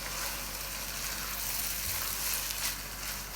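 Keema (minced meat) sizzling in a pan over a medium flame, a steady close hiss and crackle of frying with faint stirring scrapes, no voices.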